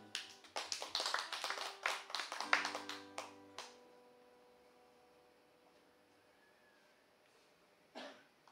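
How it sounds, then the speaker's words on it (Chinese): An audience at a live music event claps, a brisk burst of close applause that fades out after a few seconds into quiet, followed by a short isolated rustle near the end. "掌声欢迎大大哥。"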